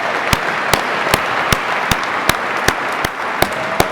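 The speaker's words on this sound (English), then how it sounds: "Let's give these veterans and all veterans a great round of applause." Audience applause at a World War II veterans' recognition ceremony in Nebraska, a steady dense clapping wash with a few sharp louder claps standing out, sustained for several seconds with no talk.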